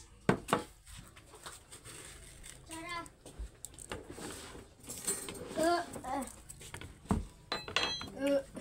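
A spoon clinks against dishes in a few light, bright taps amid household noise, while people, including a child, talk throughout.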